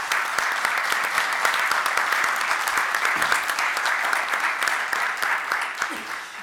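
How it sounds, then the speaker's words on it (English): An audience at the CCC Symposium 2017 day-two opening remarks applauds steadily, a dense and sustained wash of many hands clapping without a break, with no voices over it. "how about a round of applause for all of them?"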